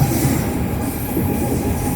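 Lötschberg car-carrying train in Switzerland rolling along with cars loaded aboard its wagons, giving a steady, loud rumble of wheels and rail noise with faint squeal, continuous and close throughout.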